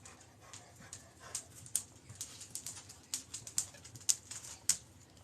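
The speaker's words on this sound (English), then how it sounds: "here comes my huffy dog. He likes to sit and huff at me. He's a chocolate lab." A chocolate lab dog sits close by and huffs, giving a string of short, sharp puffs of breath that come irregularly and grow stronger toward the end, with no talking.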